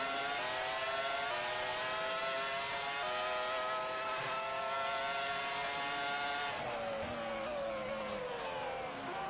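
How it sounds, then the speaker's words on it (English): A Formula One race car engine in a racing sim climbs through the revs in seventh gear, a steady high-pitched whine rising in pitch, briefly dipping and then climbing again, with one more drop near the end. "Gear 7 climbing up the revs to try and get as much speed as possible."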